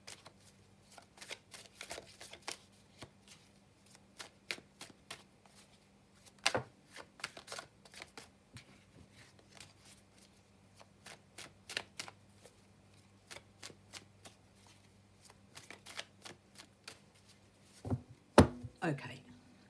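Tarot cards are shuffled close by in quiet surroundings, a string of soft riffling flutters and light taps, with a few sharper card snaps near the end.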